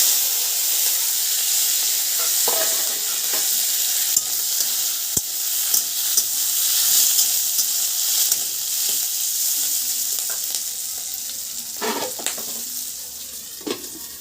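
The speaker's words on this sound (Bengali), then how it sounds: "আমি এখানে কিছুটা সর্ষের তেল দিয়ে দেবো আর ফোড়ন দেবো।" Bay leaf, green and dried chillies and panch phoron tempering in hot mustard oil, a steady close sizzle with occasional stirring scrapes and clinks of a utensil against the pan, no talking.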